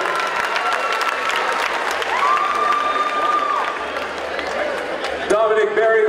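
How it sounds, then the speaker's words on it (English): An arena crowd applauds and cheers for a boxer after a fight, dense sustained clapping with scattered shouts, fairly loud and close, with a voice breaking in near the end. "Please give him a round of applause."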